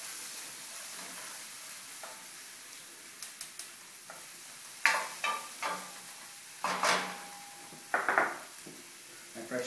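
Onions and garlic sizzle in a pan for pasta carbonara, a steady hiss under sharper bursts and scraping as the pan is stirred at irregular moments.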